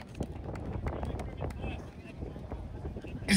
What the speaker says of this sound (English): It's windy, folks.